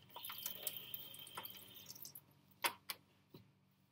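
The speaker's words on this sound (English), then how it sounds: "We're then going to rinse it in cold water." Soft running water with a few drips and light splashes at close range as a thermometer is rinsed in cold water, ending in several sharper wet taps.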